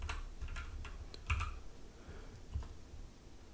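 Fingers tap out a short word on a computer keyboard, a quiet run of light clicks with a couple of firmer key strikes, close up.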